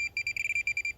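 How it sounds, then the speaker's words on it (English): A Minelab Pro-Find pinpointer gives a rapid run of short, high electronic beeps, about a dozen in quick succession, clear and close in a quiet room. "it beeps there and it beeps there"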